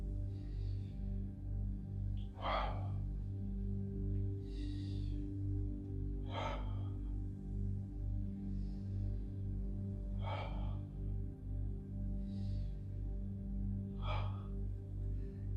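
Slow, deliberate breaths in an energywork exercise for immunity, each audible inhale or exhale repeating about every four seconds over a low steady background tone, close and fairly soft, with no talking.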